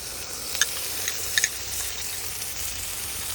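Ground spices fry and are stirred in a pan for Bengali chitol fish kalia. A soft, steady sizzle runs throughout, with a few light scrapes and clicks from stirring and no voices.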